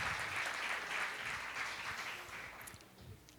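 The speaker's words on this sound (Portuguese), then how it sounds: "Vamos aplaudir o Senhor por essa mulher?" A church congregation claps together during a sermon, a fairly faint, continuous wash of applause that slowly thins out toward the end with no voices over it.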